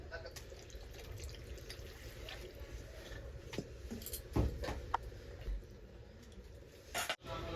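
Milk and water poured into a simmering pot of Bengali shukto with mixed vegetables, giving soft drips and a couple of brief splashes over a steady low kitchen background.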